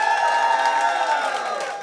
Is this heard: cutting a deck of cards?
no